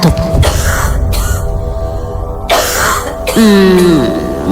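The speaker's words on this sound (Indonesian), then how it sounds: "terdengar suara seorang perempuan batuk." A woman clears her throat and coughs in a few sharp, close bursts, with a pause of room quiet between them and a brief vocal sound at the end.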